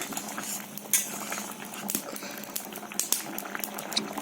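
Potatoes boil in a bhetki fish kofta curry, a soft steady bubbling broken by sharp clinks of a utensil against the pot at irregular moments, close and fairly quiet.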